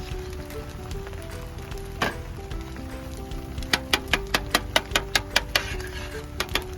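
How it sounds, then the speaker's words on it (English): Scrambled eggs fry in a pan for Hawaiian fried rice cooked at a campsite, a steady soft sizzle joined by a run of quick clicking taps from a utensil in the latter half, no talking. "You kind of want to just heat it up and make scrambled eggs in here."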